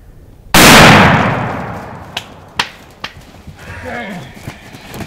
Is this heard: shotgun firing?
yes